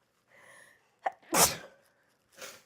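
A single loud, sharp sneeze with a quick inhaled buildup, followed shortly by a softer breathy exhale; close and otherwise quiet.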